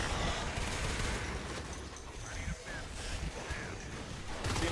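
Gunfire from a competitive Natural Selection 2 match, rapid dense shots and explosions in a chaotic firefight, heard under an excited commentator's voice.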